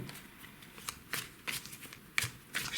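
Tarot cards are shuffled in quick bursts, giving crisp riffling snaps and soft card slaps at irregular intervals, close and fairly quiet, with no talking.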